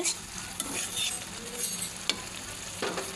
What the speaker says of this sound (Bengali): দিয়ে নাড়াচাড়া করে নেব এবার কষানোর জন্য অপেক্ষা করব